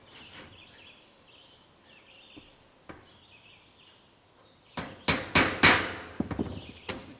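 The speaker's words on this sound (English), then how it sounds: "start it with a hammer" Several sharp hammer strikes ring out in quick succession after a few isolated taps, loud and close, with birds chirping faintly in the background.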